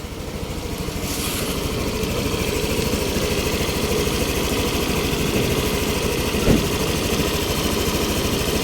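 A motorcycle engine idles steadily to warm up after an oil and gear oil change, a close, even, continuous putter that runs unbroken for the whole stretch.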